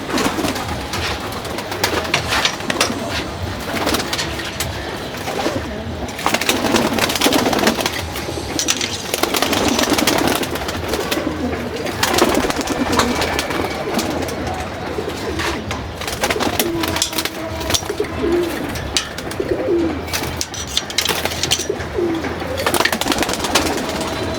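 Caged pigeons in a home loft during moulting season keep up low, repeated cooing over a continuous ambient wash, with occasional faint wing flutters nearby.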